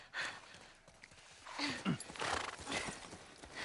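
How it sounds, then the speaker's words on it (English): Horse in The Last of Us Part 1, with hoof clip-clops and a short whinny or snort from the animal at moderate distance, fairly faint, amid some game background noise. "Good thing the horse didn't spook."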